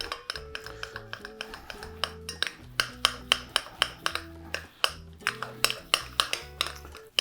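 A seasoned mixture is stirred with salt and pepper in a kitchen, a quick rhythmic series of soft taps and scrapes of a utensil against a bowl, close and fairly quiet, steady throughout.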